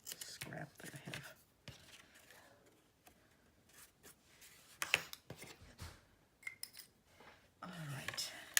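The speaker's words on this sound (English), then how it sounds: "let me get my scissors. I'm just going to trim off this little scrap that I have" Scissors trimming a small paper scrap for a spring botanic garden journal, heard as a few quiet, scattered snips and paper rustles separated by near-silent gaps.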